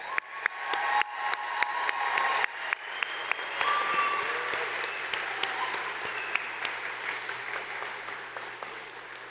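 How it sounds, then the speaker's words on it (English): A convocation audience applauds graduates of a university health faculty, steady dense clapping from a large crowd that carries on for several seconds before slowly thinning. "Let's give them another round of applause"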